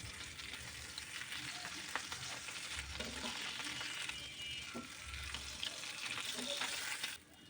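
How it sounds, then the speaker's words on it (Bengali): Poa fish fries in oil in a kadai, a quiet steady sizzle with occasional crackles and low bumps of movement, ending abruptly. "মাছগুলো এভাবে আমি ভেজে নিয়ে নেব"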